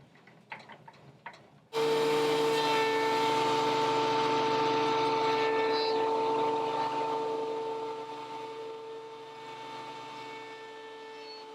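A thickness planer feeds a white birch board after a few brief knocks, starting abruptly into a loud, steady tonal whine with a dense roar that holds close, then eases slightly as the board passes through.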